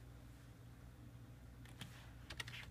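Typing on a computer keyboard, heard as a few soft, scattered keystrokes late in the segment over a steady low hum, quiet and near.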